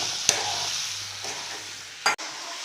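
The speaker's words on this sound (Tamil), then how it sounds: "இது எண்ணெயிலே நல்லா வதங்கட்டும்." Small brinjals fry in oil with turmeric, giving a close, steady sizzle broken by a few quick stirring scrapes, the last one sharper and followed by a short drop before the frying continues.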